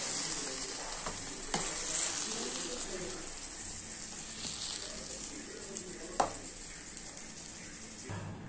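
Steady sizzling of gravy simmering in a pan with faint scraping as a spoon stirs, a few soft clinks of utensil against metal.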